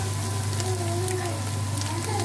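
Carrots and string beans dropped into a pot of chicken mami broth, a dense continuous sizzle and bubbling hiss heard up close for a few seconds.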